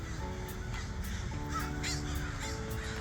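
Crows caw repeatedly in short harsh bursts, several birds calling over a steady outdoor hum, fairly distant.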